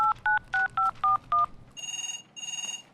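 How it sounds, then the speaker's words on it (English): Six quick dialing tones beep in a row, then a phone rings twice with a warbling electronic trill. "Oh, it's ringing."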